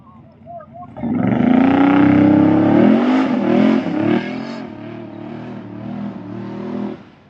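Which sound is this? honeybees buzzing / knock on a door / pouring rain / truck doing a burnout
truck doing a burnout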